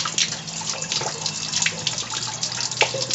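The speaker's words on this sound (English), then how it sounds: "That's the water from the hot water heater. And that's got to be all drained out." Water steadily drains and splashes from a camper's hot water heater, a continuous close hiss of running liquid with small spattering bursts and a low hum underneath.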